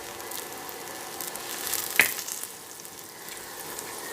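Food frying in a new clay pot on an infrared cooker, a steady soft sizzle that holds throughout, with one sharp crackling pop near the middle; close and fairly quiet, no voices.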